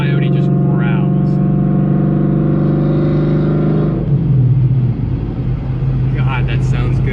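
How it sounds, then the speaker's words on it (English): A Ford Coyote V8 in a truck growls through high-RPM downshifts, a loud close rumble that holds steady and then drops in pitch as a shift comes through, with a voice over it. "you're banging through the downshifts in like higher RPMs, and the engine just, the Coyote just growls"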